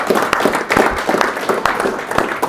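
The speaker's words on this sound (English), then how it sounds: "let's give a round of applause for each other." Attendees at a leadership mastermind session clap for one another, a short, moderately loud burst of scattered applause from a small group lasting a couple of seconds.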